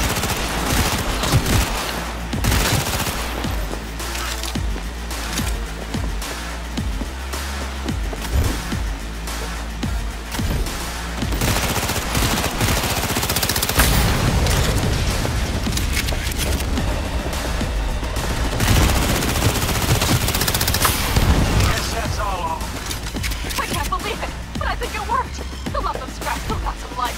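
Dense, continuous gunfire from a Cyberpunk 2077 firefight: rapid automatic bursts and crashing impacts fill the whole stretch, loud and close, with a voice breaking through now and then.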